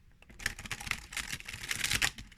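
Glossy new tarot cards are riffle shuffled close up, a rapid flutter of crisp clicks in two or three quick bursts, the last burst the loudest.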